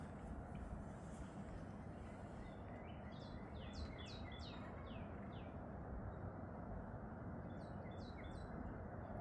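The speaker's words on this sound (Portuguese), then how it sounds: "O pássaro está escondido, mas o canto é lindo, gente." A hidden bird sings near a park lake in Indiana. Two quick runs of high, sweeping chirps come a few seconds apart, faint and somewhat distant over a steady background hiss.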